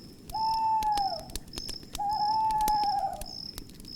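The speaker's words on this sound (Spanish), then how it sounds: "escuché el sonido de un búho" Two long, steady hoots from an owl near a village house at night, each lasting about a second with a pause between, sounding fairly close over a constant background of insect chirping.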